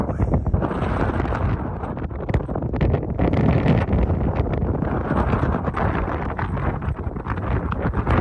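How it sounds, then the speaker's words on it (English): Strong gusty wind buffets the microphone on a fog-bound Mount Jefferson summit in the Presidential Range, with cold gusts near 50 mph; a loud, continuous roar with rough flapping turbulence that stays steady throughout and has no talk over it. "It's cold and the wind's blowing. 50-mile-an-hour gusts"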